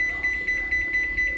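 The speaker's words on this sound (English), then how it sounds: "Put a timer." A kitchen timer sounds a steady repeating electronic beep, pulsing about four times a second, moderately loud over a low background hum.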